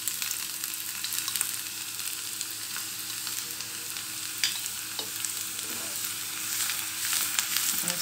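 Chopped garlic sizzling and frying in hot ghee, a continuous bright crackle with scattered pops and occasional stirring scrapes, close and steady with no talking.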